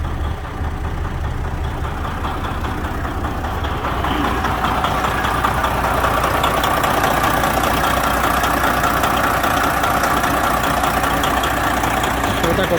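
A Ford Transit medium-roof van engine idles steadily and continuously at a moderate level, a low rumbling drone running throughout with no talk over it.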